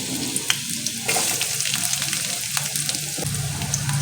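Finely chopped garlic and onion sizzling in hot oil in a pan while being stirred, a close steady frying hiss with a few scraping clicks and a shift in tone as more goes in.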